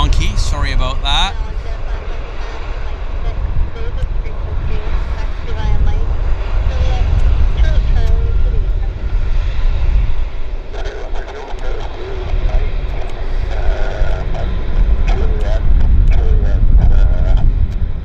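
A heavy airliner arriving at Vancouver airport, its deep engine roar rumbling steadily and fairly loud for the whole stretch, with birds cooing nearby and someone talking over it.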